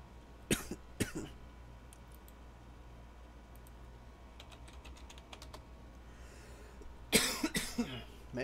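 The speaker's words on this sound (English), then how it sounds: "Man, I wish this cough would go away." A man coughs a few times, two sharp coughs close together near the start and another cluster near the end, between them soft keyboard typing and clicking.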